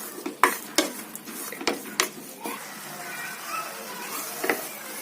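Grated coconut and milk stirred in a pan for coconut ladoo, with several sharp spoon clinks and scrapes against metal in the first half, then softer scraping and a faint sizzle.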